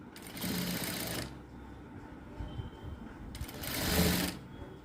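A sewing machine stitches a straight seam on a blouse in two close bursts of rapid, whirring needle action, each lasting a second or so. A quiet pause separates the bursts, and no one speaks.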